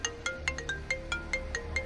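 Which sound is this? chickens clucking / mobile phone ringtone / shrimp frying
mobile phone ringtone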